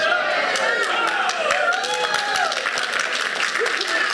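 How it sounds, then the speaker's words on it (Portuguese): Steady congregation applause fills a church service, dense and continuous clapping throughout with voices of the crowd mixed in, fairly loud and close. "Forte esse aplauso à palavra"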